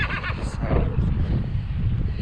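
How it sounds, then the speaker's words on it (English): A newly arrived horse at a storm-damaged horse barn gives a loud, drawn-out neigh up close, its whinny layered over steady wind or handling noise with faint speech-like sounds around it. "I want to show you the new horse."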